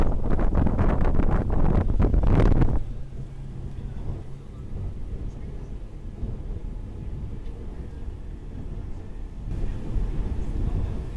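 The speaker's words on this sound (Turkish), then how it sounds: "Biraz rüzgarlı." Steady wind rushing and buffeting over an outdoor rumble on a boat tour near James Bond Island, Thailand, louder and gustier at first, then settling into a lower continuous roar.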